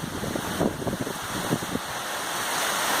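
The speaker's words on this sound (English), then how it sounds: "the wind gusts are about 15 miles an hour, as you can see" Gusty wind from the outer rain band of Hurricane Matthew on Merritt Island, Florida, buffets the microphone in a steady loud roar with surf-like surges, near a river, no talk.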